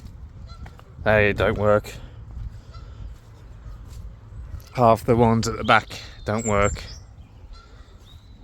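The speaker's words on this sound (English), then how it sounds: "I hear the ducks in the background." Geese or ducks honk and call in the background, appearing as short intermittent bursts behind someone talking indoors-outdoors about wiring.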